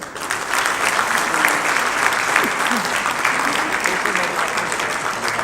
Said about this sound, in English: Let's give another big round of applause and join me congratulating Magsaysay People Resource Corporation.